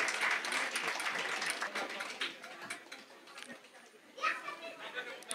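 Scattered clapping and chatter from an audience at a Bengali community cooking challenge event greet newly elected Coventry councillor Saida, a dense burst of applause that thins out into murmuring voices and then swells briefly again near the end.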